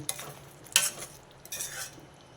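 Chopped capsicum tossed into a hot pan for a masala curry, with soft sizzling and a couple of brief stirring scrapes, quiet and close, without talk.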